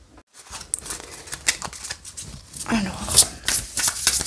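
Tarot cards are shuffled close by in quick riffling and patting bursts, while a voice talks over them.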